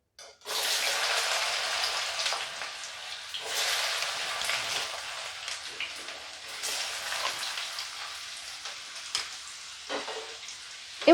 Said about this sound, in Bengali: তেলটা গরম হয়ে গেলে আমি এর মধ্যে ভাপিয়ে নেওয়া ওলের টুকরোগুলোকে দিয়ে দেব।